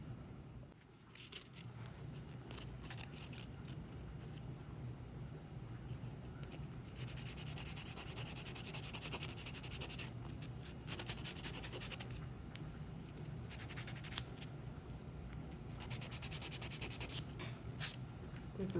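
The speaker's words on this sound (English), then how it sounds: "So we just finished buffing, and now we just want to get all the dust off her hands." Steady soft rubbing and scraping of a nail buffer across fingernails during a home manicure before gel polish, continuous and close, with brief bursts of stronger friction and a low background hum.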